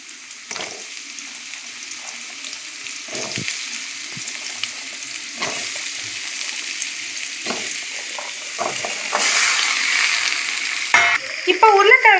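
Oil sizzles steadily in a pan as chunks of potato fry, with occasional scraping stirs and a brighter crackle building near the end; no voices.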